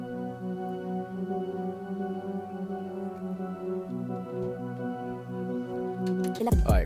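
Hip-hop beat playing back with sustained pads and the hook layered together, steady tonal chords throughout before a sudden burst of louder sound at the very end.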